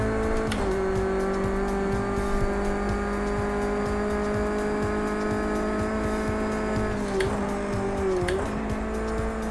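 A car engine drones steadily while driving in a racing game, a loud sustained mid-pitched hum with brief pitch dips and squeals as it shifts or corners.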